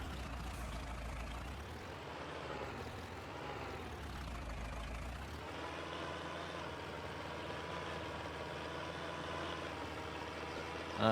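A 3020 tractor engine idles in Farming Simulator, a steady low rumble with a heavier throb at first that settles into an even, continuous drone, with no talking.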